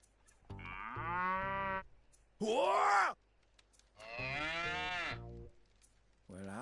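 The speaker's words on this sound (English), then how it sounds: "Bororo cattle. Nearly scared my boots off." Bororo cattle in the Sand Land game, three long deep loud moos with a higher groaning bellow between them, close and clear, with a brief spoken word in the clip.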